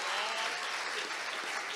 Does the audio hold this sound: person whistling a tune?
no